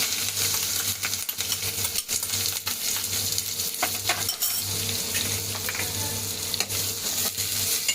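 Onion sizzling and frying in hot oil in a kadhai with mustard seeds, cumin, curry leaves and chilli, a steady crackling hiss with occasional clinks of a spoon against the pan, no talking.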